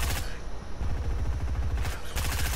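Rapid gunfire from a shooting video game, loud bursts of repeated shots in a fast rhythmic fusillade, with a brief pause before firing resumes.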